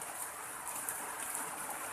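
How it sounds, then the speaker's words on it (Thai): Rain falls steadily in Don Thoi, a soft, even wash of drops with no talk, faint and continuous throughout. "ฝนตกแล้ว"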